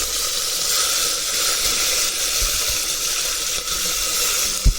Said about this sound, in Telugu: చిన్నగా కట్ చేసుకున్న ఉల్లిపాయలు వేద్దాం.